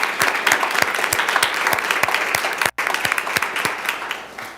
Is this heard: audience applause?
yes